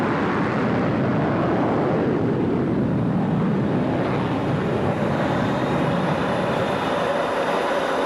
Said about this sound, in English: the mower becomes an F-16 Viper of the Iowa Air National Guard in Sioux City